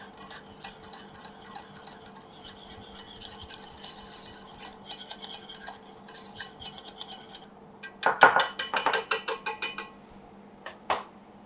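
Whipping cream with added vanilla mixed in a bowl by hand, a series of quick clinking utensil strokes against the bowl, sparse at first, then a faster, louder burst of rapid taps near the end.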